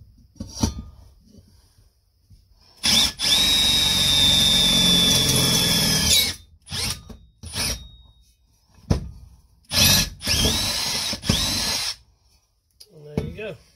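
A Milwaukee 2598-22 cordless drill bores through wood in two loud sustained bursts, the first around three seconds long and the second shorter, with brief whirs and handling clicks in between and quiet talk at the start.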